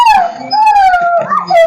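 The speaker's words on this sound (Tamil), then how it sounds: "ஆமா, இது வந்து ஆண் நாய்." A male Rajapalayam dog howls close by, one sustained, wavering cry that bends in pitch and briefly breaks into a whimper before carrying on, loud and alone.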